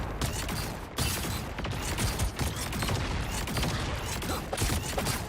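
In the hero shooter game Marvel Rivals, a dense, rapid fusillade of crackling, firework-like explosions pops continuously and loudly for over five seconds with mechanical clatter mixed in.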